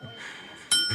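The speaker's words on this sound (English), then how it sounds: "First bell ring." A bright bell rings once near the end of a scene from Better Call Saul, a sharp metallic ding following a stretch of low, quiet room tone.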